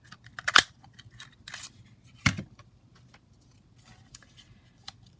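Punching a circle out of paper for a handmade policy envelope, a few sharp crisp clacks and snips spaced irregularly with quiet rustling between them, close up.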